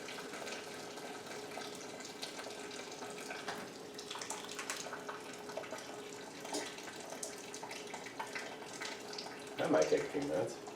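Wort drains from a brew kettle during homebrewing, a steady trickle and splash of liquid running continuously with a few louder gurgles near the end and faint talk in the background.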